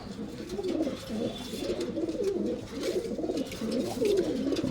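A female pigeon that is moulting coos in a low, continuous warble, several rolling coos repeating steadily at close range.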